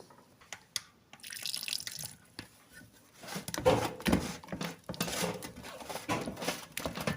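Water trickles and splashes into a bowl of batter in short bursts, with a few drips and soft clinks in between, close by.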